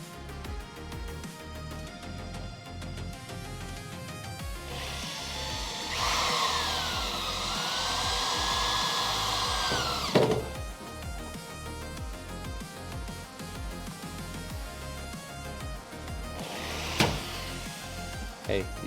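A power tool tightens bolts in a torque sequence during a Charger crew cab restoration, with a sustained whirring burst midway and a sharp impact near the end, while people talk throughout.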